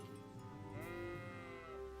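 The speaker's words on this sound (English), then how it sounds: "This was a sheep I murdered earlier" A sheep bleats in a video game, one long wavering bleat with rich harmonics standing out over a steady game soundtrack drone, close and fairly loud.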